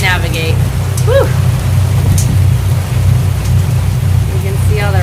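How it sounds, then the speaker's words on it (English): Heavy rain falls around a trawler cruising the Okeechobee Waterway, a steady dense hiss over a low engine drone, with brief voice-like sounds over it. "You can see all the rain in the water."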